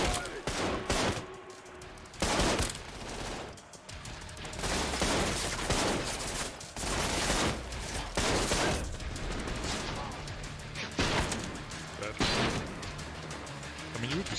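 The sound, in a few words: automatic gunfire in the video game Trepang 2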